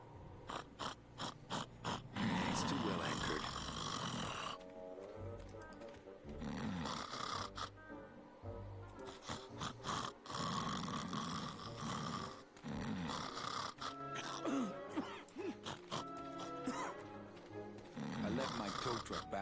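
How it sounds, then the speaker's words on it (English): Loud, rasping snores from the character Glottis in the adventure game Grim Fandango, repeating in heavy rhythmic waves with mechanical clanks mixed in, while people talk over them. "That snoring sound is really awful."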